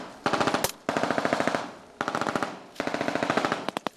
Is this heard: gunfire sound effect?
yes